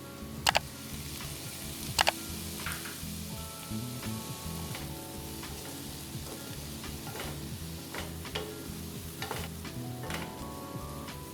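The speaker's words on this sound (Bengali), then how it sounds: "সবজিগুলো ভালোভাবে ভাজা হয়ে গেলে তাতে 1/2 টেবিল স্পুন আদা রসুনের পেস্ট দিয়ে আরও খানিকক্ষণ ভেজে নিতে হবে।" Mixed vegetables frying in a pan with ginger-garlic paste and ground spices for a vegetable dal, a constant sizzle with repeated stirring scrapes and a few sharp utensil clicks.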